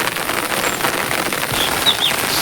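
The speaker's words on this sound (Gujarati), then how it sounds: "વરસાદ ચાલુ થઈ ગયો કમ્પ્લેટ" Steady rain falls outdoors beside a flooded, muddy river, making a continuous broadband hiss of drops on surfaces with no clear pauses throughout.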